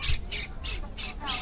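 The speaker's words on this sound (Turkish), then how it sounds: "yerde kuşlar, tabii kuşlar falan hiç kaçmıyor" Pigeons and parrots squawk at an outdoor market fair in Buenos Aires, five short harsh calls repeating in a steady rhythm, moderately close over low background murmur.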